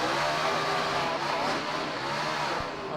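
A NASCAR stock car engine at the 2006 Sonoma road-course race roars continuously and loudly, a dense, steady engine drone with no pause.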